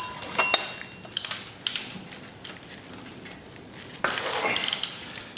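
A 5/8 inch socket wrench loosening the oil drain bolt on a Harley motorcycle, with a few sharp clicks and a creaking metallic ratchet at close range.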